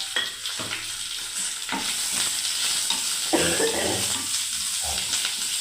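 Whole cumin, carom seeds and onion frying in hot oil in a pan, a steady close sizzle throughout with intermittent stirring scrapes and clinks.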